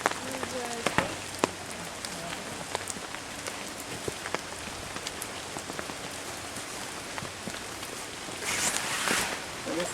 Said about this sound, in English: The rain started to pick up.